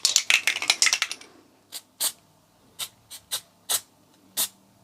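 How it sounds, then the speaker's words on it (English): A long rapid burst of aerosol snow spray hissing in quick pulses onto cardboard and wood Christmas decorations, followed by several short separate spritzes spaced apart, close and fairly loud. "I'm adding snow spray as a final touch,"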